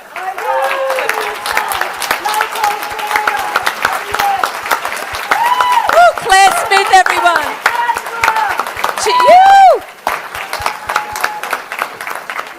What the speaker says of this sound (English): Keep that applause going, ladies and gentlemen, for the Queensland local hero, Claire Smith